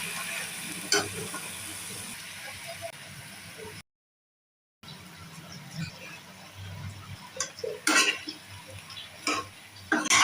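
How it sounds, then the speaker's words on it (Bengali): Banana stem, potato and tomato frying together in a pan: a low, soft sizzle with scattered scrapes and clinks from stirring, louder bursts toward the end, and a short stretch of silence partway through. "এখন এই যে থোর, আলু, টমাটো মিক্স করে ভাজি বানাবো।"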